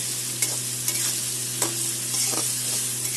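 Potatoes with black cumin frying in a pan, sizzling steadily throughout with a few sharp scrapes of stirring, close and fairly loud with no talk.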